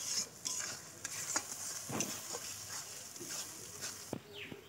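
Masala for a home-style chicken and potato curry sizzles in a pan while a utensil scrapes and stirs it in irregular strokes, close and fairly quiet, with no talking.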